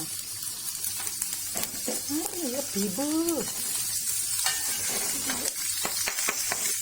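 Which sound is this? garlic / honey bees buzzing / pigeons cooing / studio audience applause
garlic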